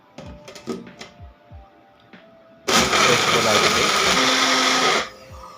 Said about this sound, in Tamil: மிக்சி ஜார் மூடிட்டு நல்லா மைய அரைச்சி வச்சுருக்கேன்